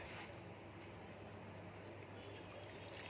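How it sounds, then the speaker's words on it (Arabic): Water is poured into a pickling mixture of vinegar and salt for pickled eggplant, a steady, close, continuous pouring and trickling with no talk. "هنحط ميه بقى"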